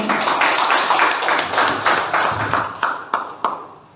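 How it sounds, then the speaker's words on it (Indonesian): A small group claps for a woman at the end of a school positive-culture module presentation, a loose patter of hands that thins into a few scattered last claps. "Tepuk tangan untuk Ibu Anita."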